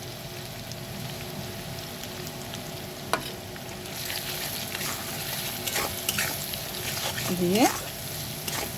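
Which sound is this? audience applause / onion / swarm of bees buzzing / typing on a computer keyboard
onion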